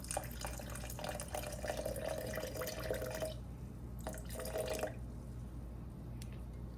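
Water pours into a bowl sitting on a kitchen scale while measuring 120 grams for einkorn sourdough cracker dough, a steady splashing trickle in two bursts, the second shorter, with a constant low hum underneath.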